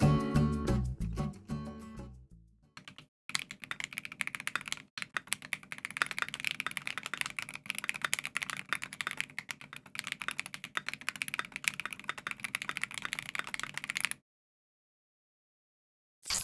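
Fast typing on a metal-cased mechanical keyboard with tape force-break mod along the case seams, a dense run of crisp clacky keystrokes close up, with a brief pause early on and silence near the end.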